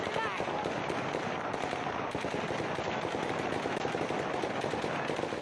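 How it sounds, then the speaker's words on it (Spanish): Gunfire crackles in dense, rapid bursts on a street in Melitopol in southern Ukraine during the Russian attacks, sounding fairly distant and faint but continuous, mixed with background crowd noise. "Se escuchan disparos"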